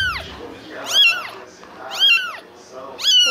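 A young kitten meows loudly three times at roughly one-second intervals, each cry a rising then falling wail, close to the listener with faint background noise between cries.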